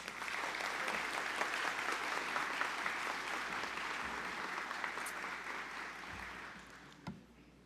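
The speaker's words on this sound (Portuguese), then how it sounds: "Uma salva de palmas." Sustained applause from an audience at a formal ceremonial session marking the 30th anniversary of São Paulo's state environment secretariat, a dense steady clapping that fills the room and fades near the end.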